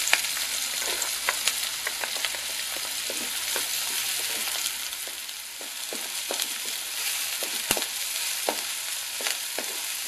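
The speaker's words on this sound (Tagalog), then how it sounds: "Gisa natin. At itain lang natin siya maging translucent." Onion and garlic sauté in hot oil for a fish sarciado, a continuous close crackling sizzle dotted with sharp pops and spits, with the occasional scrape of a stirring utensil and no talking.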